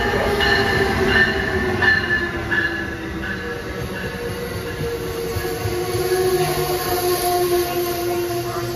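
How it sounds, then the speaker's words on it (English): An Amtrak Regional passenger train rolling into the platform at Old Saybrook station in Connecticut, with a steady rumble of wheels on rail and high, sustained squeals from the wheels and brakes, close and continuous throughout. "Train approaching. Please remain behind the yellow safety strip."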